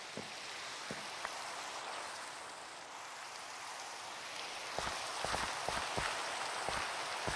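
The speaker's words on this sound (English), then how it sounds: "It's really not that cold once you're actually, like, out of the rain" Steady rain falls in the video game Minecraft, a soft continuous hiss of drops with scattered light patters and clicks toward the end, and no talk.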